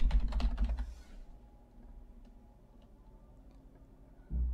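A computer keyboard clatters with a quick burst of close keystrokes for about a second, then falls silent apart from faint room hum, before a final thump.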